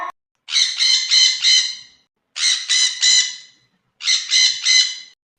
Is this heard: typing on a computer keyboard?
no